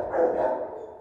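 A dog barks at a rescue centre for abandoned dogs and cats, giving one drawn-out, close, fairly loud bark or yowl that fades over about a second, with no talk.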